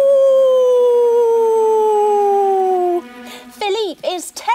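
Voices imitate a wolf howl during a children's yoga wolf pose: a long, sustained, slowly falling howl for about three seconds, then short, wavering yelping cries.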